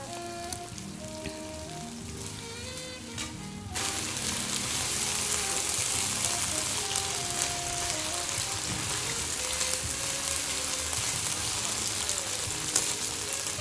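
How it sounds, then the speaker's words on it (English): Beef sizzling and frying in hot oil for fried rice, a steady dense crackle that jumps louder after a few seconds and carries on continuously, close up with no talk. "all what we want to happen right now is for the oil to continue frying the meat, sort of brown it a bit"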